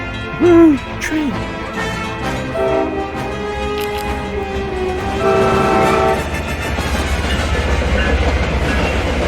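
In a video game, a train passes and sounds its horn in a few loud, hooting blasts, followed by a rolling, rumbling clatter of wheels that builds toward the end.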